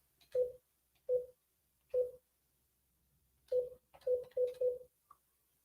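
Phone dialing on a call to a house seller, heard as a series of short tonal beeps, first three spaced apart, then a quicker cluster of four, clear and close with silence between, no ringing evident.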